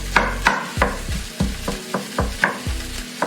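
Minced meat browning in a frying pan on a stove set to level 7, with about nine rhythmic scraping stirs over a steady close sizzle.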